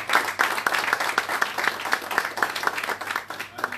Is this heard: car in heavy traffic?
no